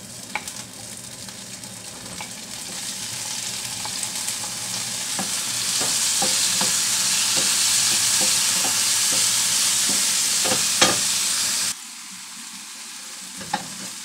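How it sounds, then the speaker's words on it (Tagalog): Onion and garlic sauté in a pan with a steady close sizzle that swells in the middle, broken by repeated stirring scrapes, then drops off sharply near the end. "ipabango natin yung sibuyas tsaka bawang"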